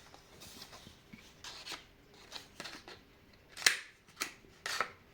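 Scissors cutting a circle out of scrapbooking paper, heard up close as a series of crisp snips and soft paper rustles in an uneven rhythm, quiet and with no talking.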